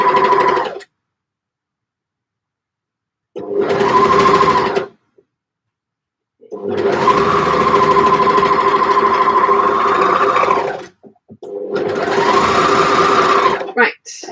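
A sewing machine stitches through at least four layers of fabric over a pocket in bursts of steady whirring, running for a few seconds, pausing, then running longer with its pitch shifting as the layers thicken.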